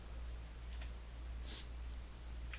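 Typing on a computer keyboard ends with a press of Enter: a few faint clicks, one a soft double tap, over a loud steady low hum, with no talk.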